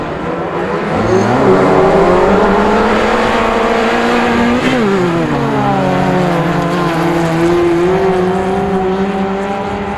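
Autograss class 2 race cars pulling away at the start of a race at St Neots, a loud blend of several revving engines with rising and falling pitch sweeps as they accelerate, continuous and close.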